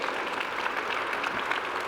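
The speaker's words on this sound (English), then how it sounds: "a round of applause" A conference general session audience claps for an award recipient, with a brief, moderately quiet, even patter of many hands.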